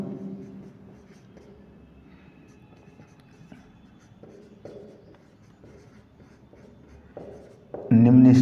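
Chalk or marker writes on a board during a Class 12 physics lesson on diffraction, a soft, steady scratching of strokes and taps heard close, with a louder voice cutting in at the end.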